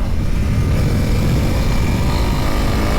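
A Honda CRF300L Rally motorcycle rides along a gravel road with a steady, loud engine drone and continuous wind and tyre roar, with no break across the whole stretch.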